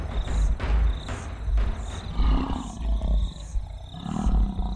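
A lion roaring to defend its territory on open plains: deep, rumbling, heavy bursts with strong low-end power, sustained and loud, while faint higher tones drift in the background.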